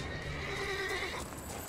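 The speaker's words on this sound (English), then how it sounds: "Now the horse is freaking out." A horse in The Witcher 3: Blood and Wine panics and lets out a long, loud whinny, the wavering neigh rising over rough background game noise with faint hoof clatter.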